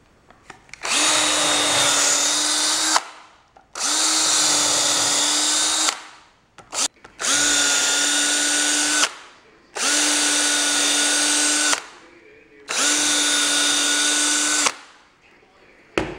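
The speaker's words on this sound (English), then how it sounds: "So now what I'm going to do is drill those holes" A power drill bores holes in wood to attach track pads on a homemade tank, running in five loud, close bursts of about two seconds each with steady motor whine and brief pauses between.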